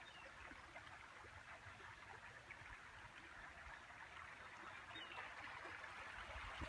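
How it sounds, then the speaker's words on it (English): The James River flows past a rural six-acre property, a faint, even rushing and gurgling of water that holds steady throughout with no speech. "Listen to that river."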